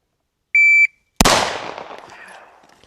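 A shot timer gives a short electronic beep, then a Girsan CMXX pistol fires one sharp, loud gunshot whose echo rings out and fades over the next second or so.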